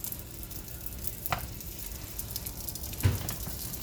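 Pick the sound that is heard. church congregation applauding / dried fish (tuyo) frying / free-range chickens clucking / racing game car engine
dried fish (tuyo) frying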